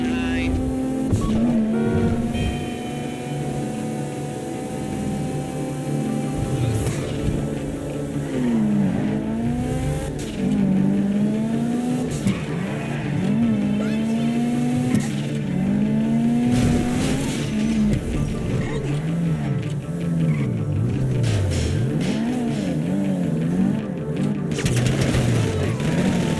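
A car engine in the video game GTA V drones and revs through gear changes over a long stretch, with rising and falling pitch, occasional tire noise and talk over it.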